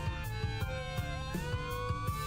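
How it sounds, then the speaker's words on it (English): A police siren plays from a phone speaker in the Lucid9 video game, with steady electronic tones that slowly bend in pitch over a regular pulsing beat, sounding thin and moderately quiet. "A police siren is playing from its speaker."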